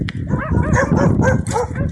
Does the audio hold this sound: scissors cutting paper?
no